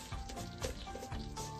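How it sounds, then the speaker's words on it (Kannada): Mustard seeds splutter and pop in a spoonful of hot coconut oil in a pan, a dense crackling sizzle with bursts of louder spitting close by. "ಸಾಸಿವೆ ಚಟಪಟ ಹೇಳ್ತಿದೆ"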